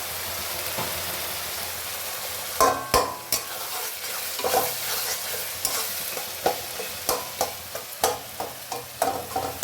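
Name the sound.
spice paste frying and being stirred in a pan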